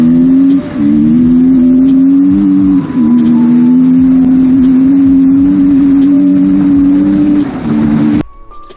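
A KTM 1290 Super Duke-based offroad motorcycle engine revs hard on dirt with wheel spin, a loud, close, sustained droning roar with slight pitch dips before it cuts off abruptly.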